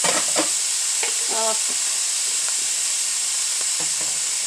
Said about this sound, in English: Now let's saute it.